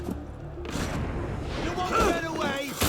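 An explosion in the video game Assassin's Creed Unity, a muffled boom among the game's rumbling action noise, heard under excited talk.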